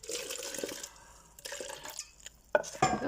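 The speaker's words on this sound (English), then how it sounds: "Let's get the hot water in there." Hot water pours into an instant boba drink cup, a close liquid splash and gurgle that fades, returns briefly, then ends in sharper splashes and a plastic tap.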